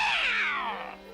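A cartoon cat lets out a single drawn-out meow that slides downward in pitch over about a second, clear and close with no talking.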